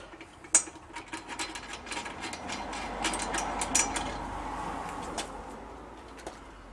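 A ratchet tightens bolts on a Minn Kota Talon mount, with close, quick clicking strokes in short irregular bursts against a quiet outdoor background.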